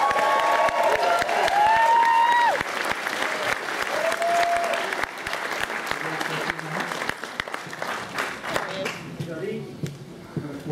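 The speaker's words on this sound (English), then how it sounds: "Please give it up for the director, Jesse Cook." A film festival crowd in Toronto applauds and cheers as director Jesse Cook is welcomed onstage, loud sustained clapping with whoops and shouted voices that gradually thins toward the end.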